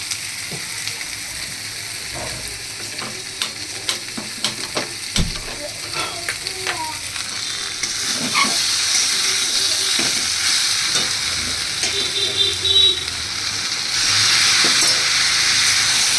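Soybean chunks and potatoes stir-fried in a pan with a little water added, a steady sizzle running throughout with scattered scraping stirs, the frying hiss swelling louder toward the end.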